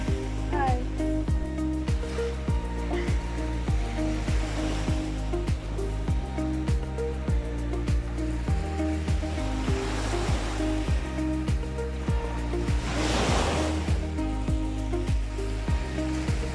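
Waves and flowing water washing along a shoreline during a family outing, a loud continuous rushing wash with surges, while a voice sings over it throughout.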